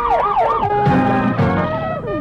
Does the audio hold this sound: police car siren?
yes